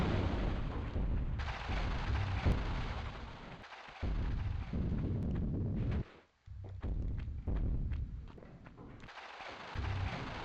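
Enemy gunfire in Tomb Raider (1996), heavy booming shots and bursts recurring through the clip, fairly loud with short pauses between volleys and no talking.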